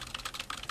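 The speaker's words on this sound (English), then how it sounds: "Yeah, do some typing." Rapid, frenetic typing on a computer keyboard, a dense run of close, crisp key clicks with no talking over it.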